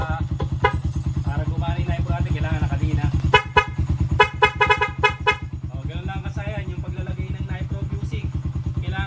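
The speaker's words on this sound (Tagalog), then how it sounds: "Kasi ito lang ngayon yung dual horn." Dual horn on a TMX 125 motorcycle wired through a 3-way switch, sounding in short and longer honks over a steady idling engine, with a voice talking nearby.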